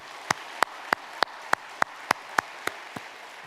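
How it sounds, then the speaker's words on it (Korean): A church congregation gathered for Sunday worship claps in welcome, about ten sharp, evenly spaced claps in a slow unison rhythm. Each clap rings out clearly over a quiet room. "우리 박수로 환영하겠습니다."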